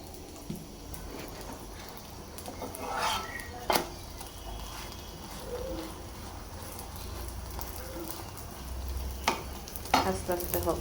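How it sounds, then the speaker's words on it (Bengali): Aloo paratha frying in a generous amount of oil in a pan, a steady low sizzle running throughout with occasional scraping and clinking of utensils against the pan, close by and with no talking. "আলু পরোটাটা একটু বেশি তেলেই ভাজতে হয়"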